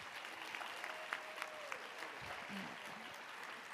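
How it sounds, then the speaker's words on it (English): Applause for the panelists at the close of a food waste discussion event, a steady wash of clapping from the audience with a few louder claps standing out and brief speech-like sounds mixed in. "please join me in giving a huge round of applause to our panelists"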